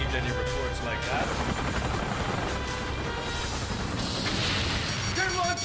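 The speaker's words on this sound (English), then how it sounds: "unidentified incoming chopper" Helicopter approaching in the video game Chase the Express, a steady loud rotor and engine roar filling the scene, layered with rumbling booms and game effects.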